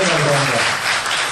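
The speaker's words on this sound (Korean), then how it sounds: "오늘 함께 하신 여러분들한테 또 박수를 한번 쳐주시죠" Audience at a National Maritime University lecture in Korea applauds a sailor of a round-the-world yacht voyage: a steady, dense wash of clapping filling the room, with a voice faintly underneath.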